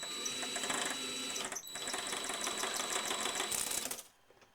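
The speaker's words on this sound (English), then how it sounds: "That sound you hear is the spool rattling." A steady metallic rattling and whirring of a spinning Kodak 8mm film magazine spool, continuous for several seconds before cutting off abruptly to quiet.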